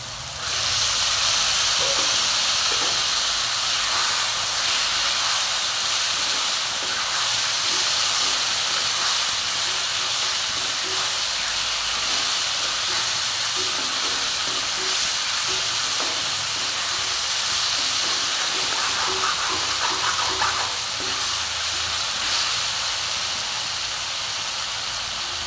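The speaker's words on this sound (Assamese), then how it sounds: "এতিয়া দি দিম মই মাংসখিনি।" Pork pieces hit a hot pan for an Assamese pork dish, setting off a loud, steady sizzle and hiss that runs continuously without any talk.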